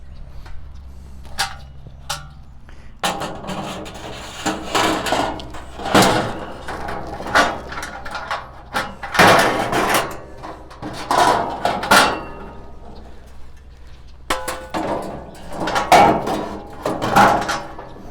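Metal ash pan and perforated insert of a WARMBOND smokeless fire pit clank and scrape as they are handled, a series of irregular close knocks, rattles and sliding scrapes with quiet gaps between.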